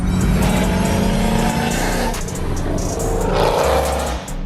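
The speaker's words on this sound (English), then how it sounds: "a supercharged engine so it can sound like this" A supercharged Jeep Trackhawk engine roars continuously at close range, its deep rumble rising and surging as it revs, with a supercharger whine on top.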